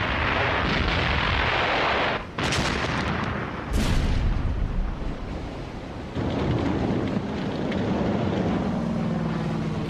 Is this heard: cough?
no